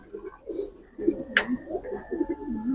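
Close Giribaz pigeons coo in soft, repeated rolling phrases, with one sharp click-like sound partway through and a faint background hum.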